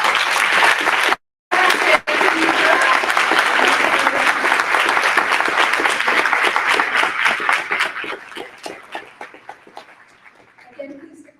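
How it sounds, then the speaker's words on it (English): A room of luncheon guests gives honorees a sustained round of applause, dense steady clapping that carries on for several seconds before thinning into scattered claps and fading out. "We just want to give one more round of applause."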